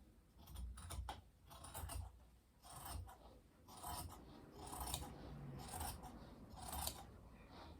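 Scissors snip through dress fabric while a sixties dress is shortened into a pencil skirt, about eight distinct close cuts in an uneven rhythm, each a crisp shearing crunch, quiet overall and with no talking.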